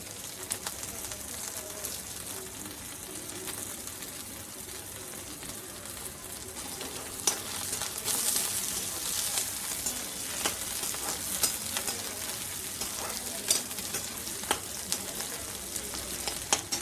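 Curry leaves fry with onions in a pan as a continuous crackling sizzle with scattered pops and the occasional stirring scrape. The sound holds at a moderate level throughout.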